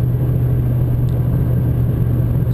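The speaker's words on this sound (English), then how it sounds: "Spinning the wheels, I'm backing off and rehooking up traction is what you hear with that throttle application." A supercharged VF Calais luxury car engine roars steadily with a low rumbling drone, tires spinning under heavy throttle and regaining traction, continuous and close throughout.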